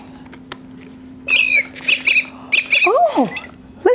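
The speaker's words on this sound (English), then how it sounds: "Oh, listen to our little bird." A small bird in a tree gives a quick series of close, loud squawks and chirps in short bursts, with quieter background sound between the calls.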